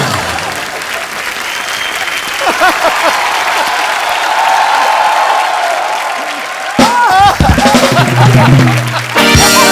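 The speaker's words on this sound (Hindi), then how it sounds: "ठोको ताली" A studio comedy-show audience breaks into sustained applause and crowd noise, loud and steady for several seconds, with brief bursts of music and voices cutting in near the end.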